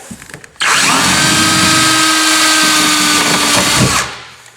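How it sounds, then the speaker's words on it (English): A power drill bores the first hole through an aluminum jon boat hull during restoration. A loud, steady whine starts abruptly, holds for about three and a half seconds, then winds down, with faint handling noise before it. "then you can drill your first hole."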